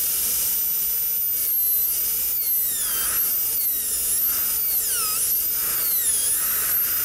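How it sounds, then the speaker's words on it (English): A high-pitched dental drill fitted with a 170L carbide bur whines steadily while drilling pin holes during an anterior bridge preparation, its pitch dipping and rising repeatedly as it cuts, loud and close with no talk. "refine our ledges slightly and place some recesses where we're going to drill our pin holes."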